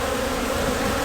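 Honeybees buzz densely and close up as a brood box is added to a hive, a steady unbroken droning hum with no voices.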